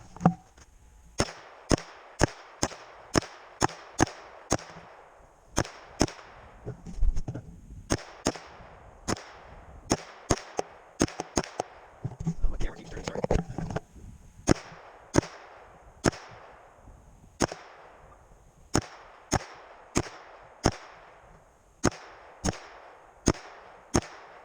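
A 9mm Scorpion firing a PSA AKV magazine: sharp, loud gunshots in quick strings of single shots with brief pauses, several dozen rounds across the stretch, plus a short spell of muffled movement in the middle.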